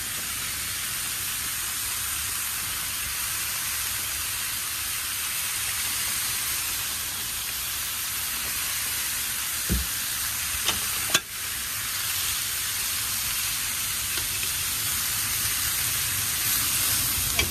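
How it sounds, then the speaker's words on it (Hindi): Chicken kofta frying in a lightly sprayed pan, a steady close sizzle with a couple of faint clinks, no talking. "हल्का सा उनको भूनना है जी"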